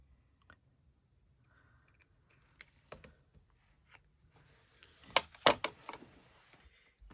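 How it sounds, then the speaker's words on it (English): Scissors trim paper for a snarky Valentine's Day craft, with sparse quiet snips early on and then a louder cluster of crisp cuts close by. "I'm just going to take my scissors and kind of make these a little crisper"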